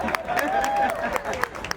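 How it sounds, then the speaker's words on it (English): Crowd at a John Lewis Way march in Tennessee claps, scattered hand claps popping up beneath someone speaking loudly over a public address, the applause staying in the background. "you can clap for them"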